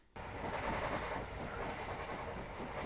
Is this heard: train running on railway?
yes